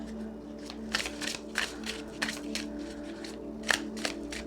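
Tarot cards are shuffled up close in quick, repeated papery riffles and slaps, bursts spaced irregularly over a faint steady hum.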